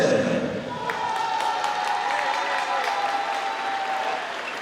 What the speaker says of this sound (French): merci d'applaudir Soren